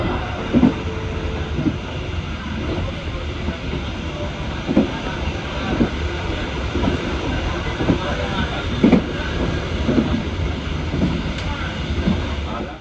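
Interior of a moving economy-class passenger train at night between Bangil and Surabaya: continuous rumbling rail noise with periodic clacks over the joints, hiss, and passengers' voices murmuring throughout.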